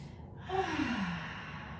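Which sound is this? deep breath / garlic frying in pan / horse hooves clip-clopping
deep breath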